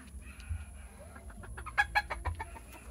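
A sick Black Australorp hen clucks in a quick series of short, bright calls near the middle, with soft farmyard background noise throughout.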